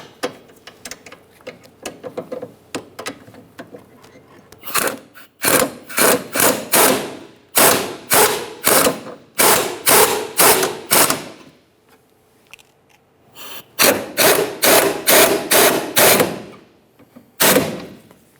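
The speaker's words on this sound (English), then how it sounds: "When tightening these, I'm going to use a thin-walled 14mm to hold onto the shaft of the sway bar link" Ratchet wrench clicks in quick bursts tightening the rear sway bar link mounting nuts on a 2012-2015 Honda Civic, with a 14mm holding the link shaft, several close, loud runs of clicking separated by pauses.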